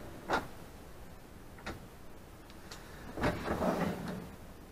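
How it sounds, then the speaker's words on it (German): A drawer in the kitchen of a Carado T348 motorhome is pulled open, giving a few dry clicks and knocks followed by a louder sliding rumble near the end, close and fairly quiet. "Die Besteckschublade, eine große Schublade."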